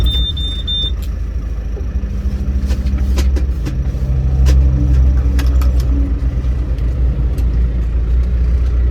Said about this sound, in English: Oh, I hear a truck coming.